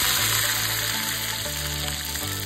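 Steady, dense sizzling of mustard seeds, cumin, chili and curry leaves frying in hot oil, close and continuous, with a low hum underneath and no talking.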